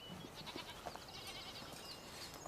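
Goats bleating faintly as the herd heads up to high pasture in the Alps, several short calls scattered over a steady outdoor background.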